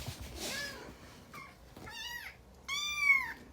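Four-week-old kittens meowing alongside their mother cat: a few short, high, quavering meows, one clear near call in the middle and a louder, longer one at the end, over a faint background.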